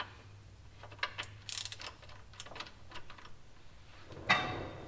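A ratchet wrench loosening a 24 mm drain or fill plug on a Toyota 4Runner differential, giving a few faint, close clicking bursts with a sharper scrape near the end.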